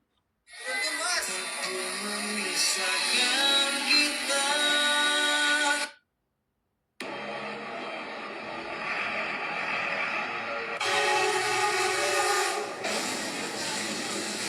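A loud, steady rumble and hiss of a passing train, broken by a brief silence, then continuing with a harsher rolling roar.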